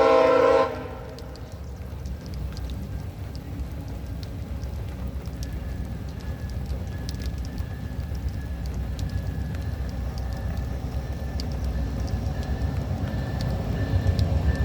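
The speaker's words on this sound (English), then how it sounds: "Looks like it might be via train 75 that's late." A VIA Rail passenger train passes during heavy night rain at a trackside spot, a loud horn blast opening briefly before giving way to a steady rolling rumble of wheels and cars under the constant rain hiss.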